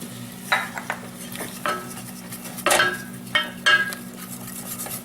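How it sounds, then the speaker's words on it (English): Melted butter and flour being stirred into a roux in a pan, with a few scraping, clinking strokes of a utensil against metal over a low steady hum, no talking. "Once it's melted, then we're going to add 2 tablespoons of flour and mix it until smooth"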